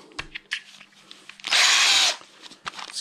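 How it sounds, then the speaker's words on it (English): A power drill fitted with a step bit bores a hole up to 12 millimetres for a Royal Enfield motorcycle bobber build, giving one loud, steady whine of about half a second between quieter clicks and handling noises. "what we've got there is a step drill that goes up to 12 millimeters."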